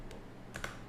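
Several quick keystrokes on a computer keyboard while a MySQL help command is entered in a terminal, a light tap near the start and then two sharper clicks close together, heard alone without talk.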